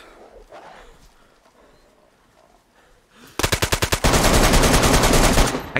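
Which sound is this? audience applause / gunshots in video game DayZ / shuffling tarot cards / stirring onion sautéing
gunshots in video game DayZ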